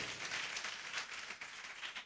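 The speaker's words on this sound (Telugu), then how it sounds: "కొంత చప్పట్లు ఇప్పుడు ఒకసారి." Applause from a church congregation at a Palm Sunday service, a steady broadband wash of many hands clapping at moderate distance, continuous and fairly faint throughout.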